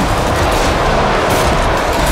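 Dense, continuous gunfire from Killing Floor 2, loud and unbroken over two seconds, with overlapping bursts of rapid shots and heavy booms filling the whole clip.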